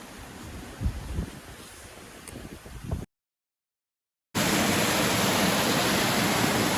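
Water overflowing in a garden, a steady rushing broadband wash like a small waterfall or stream, loud and continuous, with a brief gap of silence partway through.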